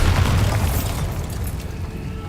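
A Bombarda explosion spell goes off in the video game Hogwarts Legacy, a loud, heavy boom whose deep rumble fades slowly over about two seconds.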